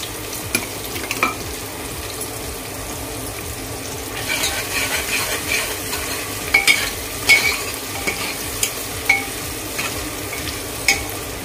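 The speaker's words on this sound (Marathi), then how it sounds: "टोमॅटो इथे आपलं सॉफ्ट होईपर्यंत परतायचं आहे." Tomatoes are sautéed in a pan for a spicy brinjal dish: a continuous oily sizzle runs under repeated spatula scrapes and clinks against the metal, close and fairly loud, with no voices.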